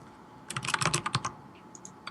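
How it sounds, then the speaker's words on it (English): Quick bursts of computer keyboard typing, a rapid cluster of clacking keystrokes followed by a few scattered taps, close and fairly quiet. "I can hear your keyboard, Scare."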